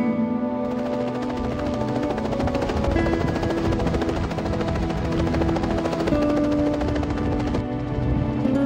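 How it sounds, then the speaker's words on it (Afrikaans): A helicopter being flown away, a dense, steady, loud rotor and engine roar that fills the whole stretch without easing off. "besluit om die helikopter uit die pad uit te neem"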